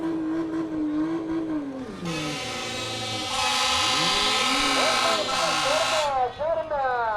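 A race car's failing transmission screams at high pitch on a dirt track during a qualifying night, a loud sustained whine with rising and falling harmonics over engine roar and an announcer talking throughout.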